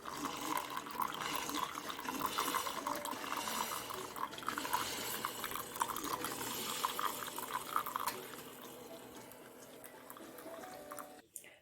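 Coffee poured steadily into a cup, a continuous close liquid stream with a trickling, splashing texture that thins and fades near the end.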